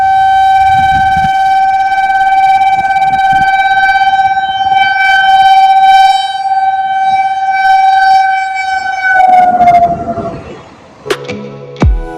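A train's loud, sustained horn blares close by at a railway crossing or station, one long steady tone that shifts and fades near the end, followed by rumbling and brief clatter.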